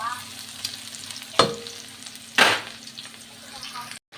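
Garlic and onion sizzle steadily in a pan for a balsamic pork steak, with two sharp scraping stirs standing out over the hiss before the sound cuts off abruptly near the end.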